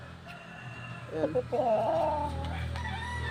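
A fighting rooster, a gamecock being readied for a Sunday match, lets out a single close crow lasting about a second over a low background hum.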